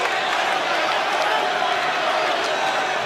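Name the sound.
boxing crowd cheering and baying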